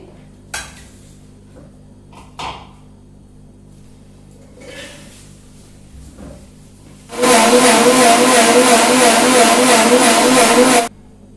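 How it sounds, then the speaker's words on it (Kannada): A mixer grinder whirs loudly for about four seconds as it grinds kurma masala, starting abruptly after a few quiet kitchen knocks and clinks and then cutting off. "ಈಗ ಮಿಕ್ಸಿ ಜಾರ್ ಹಾಕೊಳ್ತೀನಿ"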